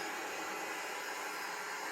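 Loud, steady broadband whoosh of an ECOVACS DEEBOT X1 OMNI robot vacuum running in high-power mode, a constant motor and airflow roar with no variation.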